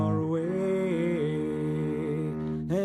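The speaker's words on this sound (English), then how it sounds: "the first version is cello and piano" Cello and piano play a song together, with a sustained bowed melody that glides between held notes above a steady low accompaniment, heard alone and up close.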